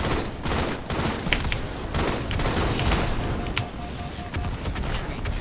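Dense gunfire and shotgun blasts in the Halo MCC video game, rapid overlapping bursts and booming shots packed tightly together at close range, loud throughout with brief gaps between volleys.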